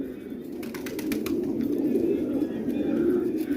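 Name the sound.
Multani pigeons cooing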